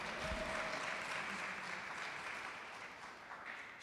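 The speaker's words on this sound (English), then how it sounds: "let's applaud Valerie for all that she do, because this is truly amazing" Audience applause at a business and professional women's brunch, a dense, even clapping wash that holds for several seconds and slowly thins toward the end.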